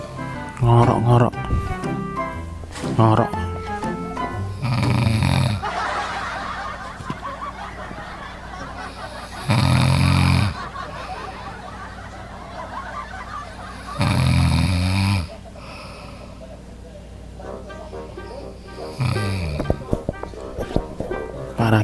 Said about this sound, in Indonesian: Para gembel-gembel pada ngorok tidurnya.